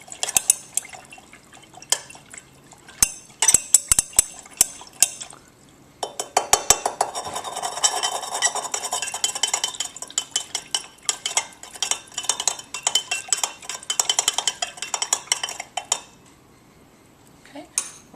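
Metal spoon clinking and scraping against a glass or bowl as salt is stirred into water to dissolve it, a fast, irregular run of close, bright taps and swirls with short pauses.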